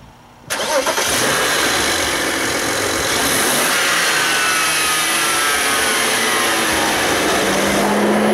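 A BMW N54 engine with failing turbochargers cranks and catches, then runs at a steady idle with a metallic turbo rattling clatter mixed into the loud mechanical whir.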